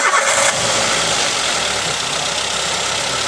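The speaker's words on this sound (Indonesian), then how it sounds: "Ini mesin hidup, ini." A car engine is started, cranking briefly and then settling into a loud, steady running hum close by, with no one talking.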